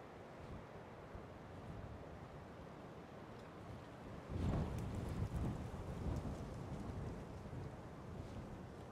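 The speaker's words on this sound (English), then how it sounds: "Give me a second as we wait for this wind to go through." Strong storm wind gusts buffeting an outdoor spot, a steady broadband roar that surges louder midway and stays heavy for several seconds before easing slightly, no voices.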